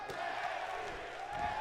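Arena crowd in the WWE 2K18 wrestling video game cheering during an NXT match, a steady roar of massed voices filling the whole short stretch at moderate level.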